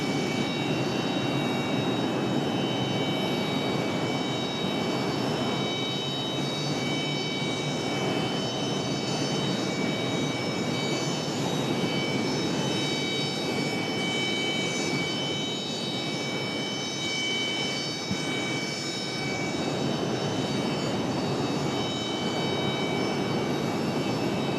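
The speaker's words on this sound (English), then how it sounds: "APU running in the background" A parked aircraft's auxiliary power unit runs at Raleigh Durham airport, a loud continuous whine and broadband roar holding steady without a break, with no talk over it.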